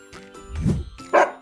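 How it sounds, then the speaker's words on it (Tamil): A dog barks on a farm, several short barks and yips in an uneven rhythm, close and fairly loud, with no talking. "இது நாய் லுல் லுல் என குறைக்கும்"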